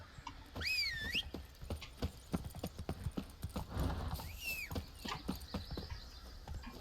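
A horse's hooves clip-clop in a steady, even rhythm in the video game The Witcher 3, close and clear, with two high sliding whistle-like tones over the hoofbeats.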